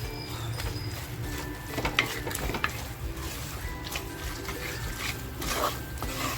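Masala stir-fried in mutton fat for spicy mutton curry sizzles steadily at close range, with the spoon clinking and scraping against the pot throughout.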